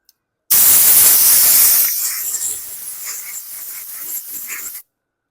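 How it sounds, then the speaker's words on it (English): A compressed air gun blasts out the carburetor bowl of a Briggs & Stratton 550E series engine on a Murray/MTD mower, giving one loud, close, continuous hiss lasting about four seconds that softens slightly partway through. "Grab my air gun, clean out the bowl."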